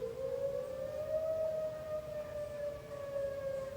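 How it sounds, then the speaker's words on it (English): Tornado warning sirens wail across North Texas in one steady, sustained tone that holds from a distance with no voices. "That our sirens are going off."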